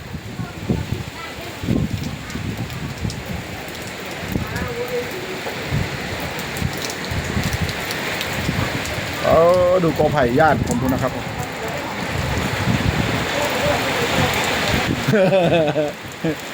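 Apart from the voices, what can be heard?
sudden rainstorm with wind in Nakhon Phanom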